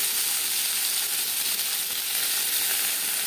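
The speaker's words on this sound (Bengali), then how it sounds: "সামান্য পরিমাণে হলুদ দিয়ে পনির ভেজে নেব" Paneer with turmeric sizzles steadily in a kadhai, a continuous bright hiss of frying oil with no talk over it, moderately close.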